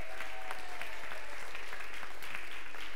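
Guests at a Passover Seder keep clapping for a helper: continuous, moderately loud group applause in a large room, evenly sustained with a faint background hum and no talking.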